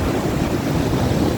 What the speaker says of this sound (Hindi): यहाँ पे पानी की रवानी की आवाज़ आप सुन सकते हैं।